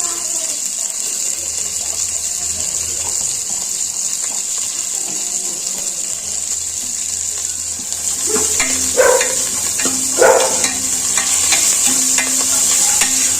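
Spices and curry leaves frying in hot oil for mutton gravy, a steady sizzle with stirring clinks and scrapes growing busier toward the end.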